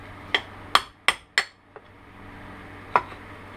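Sharp metallic hammer strikes ring out during a rear knuckle bushing replacement on a Grizzly 660 ATV, four in quick succession, then a lighter tap and one more blow after a pause, close and loud.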